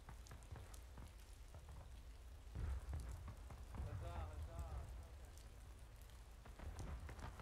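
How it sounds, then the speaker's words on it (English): Rain falls steadily in the multiplayer Civil War game War of Rights, a constant soft patter and hiss. Players' voices murmur faintly underneath. "It's raining."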